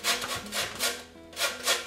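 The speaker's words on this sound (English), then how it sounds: "So just grate this into the cream cheese." Lemon skin is rubbed on the fine side of a grater for a lemon cheesecake, making about five quick, close scraping strokes in an even back-and-forth rhythm.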